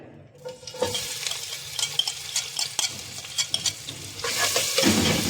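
Chopped onions, two of them, hit a hot pan for spinach, setting off a close, lively sizzle with scattered utensil scrapes and clicks that swells louder toward the end, with no voices.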